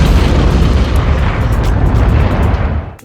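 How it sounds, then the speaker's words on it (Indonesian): A guard tower blown apart by an RPG hit in an action film, a dense, loud, rumbling boom that roars continuously and fades at the end. "Yelena menembak menara dengan RPG."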